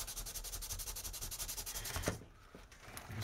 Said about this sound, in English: so quick sanding here